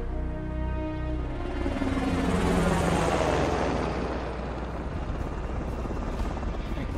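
A helicopter in the video game Call of Duty Black Ops 4 sweeps past with a thumping rotor roar that swells, peaks midway and then fades out, with game sounds mixed in.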